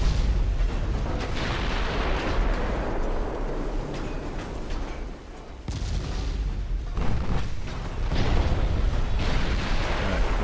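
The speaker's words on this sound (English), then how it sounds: "Get our big gun firing on him," Big naval guns fire in Ultimate Admiral: Dreadnoughts, a series of heavy booms and blasts layered over a constant battle rumble, loud throughout with a brief lull midway.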